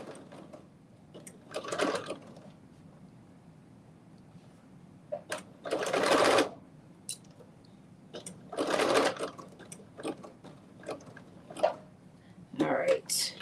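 A sewing machine stitching a fanny pack, running in short loud bursts between quieter pauses, close up, with a voice talking at times.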